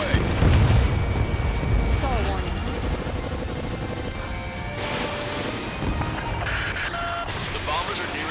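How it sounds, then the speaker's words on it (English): Missile launch and explosions from the Ace Combat 7 flight combat game, a deep rumbling boom and roar filling the mix under steady jet engine drone, with a voice talking over it. "Missile away."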